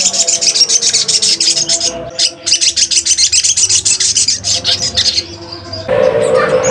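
A caged sogon ijoan songbird chirps loudly and rapidly in dense repeated bursts, briefly pausing, then resuming its fast high twittering before a different, harsher call takes over at the end.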